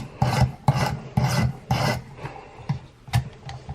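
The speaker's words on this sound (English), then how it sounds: "Hit it again on the other side, back and forth with the coarse stone a little bit." A knife blade being sharpened with a double bevel on the coarse stone of a Worksharp sharpener, giving a rhythmic rasping scrape of about eight quick back-and-forth strokes, close up with no talk.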